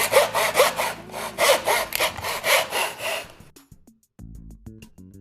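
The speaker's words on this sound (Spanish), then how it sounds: "Ahora ya podemos empezar a realizar el corte." A hand saw cuts wood molding in steady, close back-and-forth strokes, about a dozen rhythmic rasps. The sawing then stops and a few light knocks and clatters follow.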